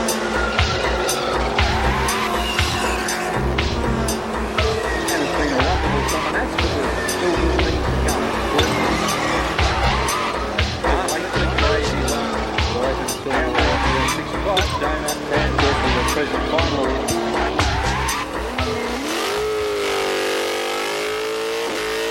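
A 1971 Datsun 1600 with Webers does a burnout, its small engine revving hard with screeching tire squeal, loud and continuous under an announcer's voice and crowd noise.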